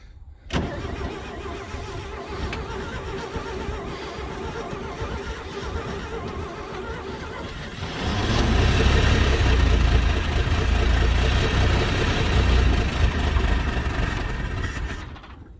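A 1949 Chevrolet car on a cold start attempt: a steady cranking, rough mechanical drone, then the engine catches about halfway and runs louder and deeper, holding a heavy, rumbling idle up close to the end.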